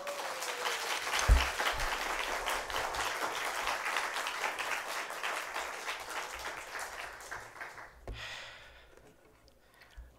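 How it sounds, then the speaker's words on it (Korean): Church congregation applauding in praise at an anniversary thanksgiving service, a steady dense round of clapping that thins and fades near the end, with a brief voice at the start. "하나님께 영광의 박수 올리겠습니다"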